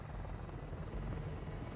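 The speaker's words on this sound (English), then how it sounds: "That's a helicopter." Helicopter rotor in the Shadow of the Tomb Raider video game, a steady low thudding drone that holds evenly throughout at moderate loudness with no voices over it.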